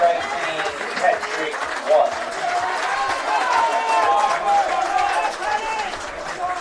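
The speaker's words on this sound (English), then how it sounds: "Warm round of applause from the Bees fans in the stand." Warm applause from Bees fans in the stand during a Southern Championship football match between University and Hobart United, a diffuse crowd clapping under a commentator's voice, fairly steady and distant.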